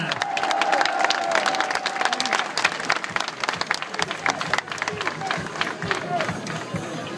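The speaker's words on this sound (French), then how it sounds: "Vos applaudissements pour Steven Williams." A football fan-day crowd for Sporting de Charleroi breaks into steady, dense applause with some cheering for a player, loud and close, filling the whole stretch with a murmur of voices underneath.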